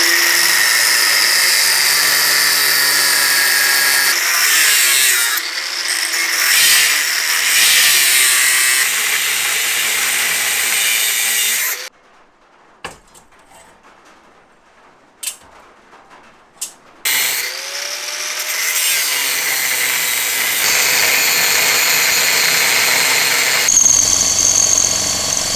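Metalworking on steel plates for a small homemade generator: long stretches of loud, harsh cutting and drilling noise, broken by a quiet pause with a few sharp knocks, then the grinding resumes, all up close.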